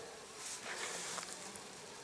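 Faint buzzing of bees flying close around flowering plants, a soft, steady hum with a few louder passes, no voices.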